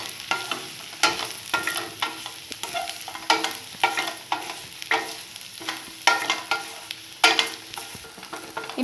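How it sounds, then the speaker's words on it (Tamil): Boiled, cut cassava fries in oil in a pan while being stirred, a steady close sizzle broken by repeated scraping and clinking strokes of a spoon, with no talking. "இப்போ அதை ஒரு 2 மினிட்ஸ் நல்லா ஆயிலில் ஃப்ரை பண்ணியாச்சு"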